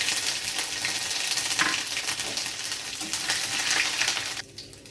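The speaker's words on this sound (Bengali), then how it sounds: "আদাটা একটু খুন্তি দিয়ে নেড়ে নিয়েছি" Grated ginger and whole cumin seeds frying in hot oil, stirred with a spatula: a dense, loud, close sizzle with scraping strokes throughout, dropping off sharply in the last half second.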